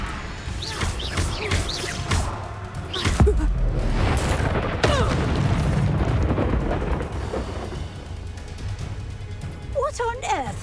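A Confringo fire spell exploding in the video game Hogwarts Legacy, a loud booming blast with crashing debris amid game music and effects, while characters speak over the action.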